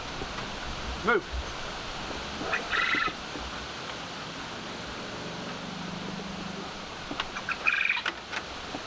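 A flock of quail in a pen gives scattered clucks and chirps at moderate distance, a few short calls spread over several seconds amid low rustling, with a person's voice briefly present.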